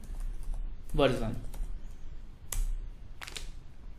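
Computer keyboard keys tapped while entering a .NET version command in a cloud shell: a few sparse, crisp clicks come close together near the end, after a brief voiced sound, with a low hum underneath.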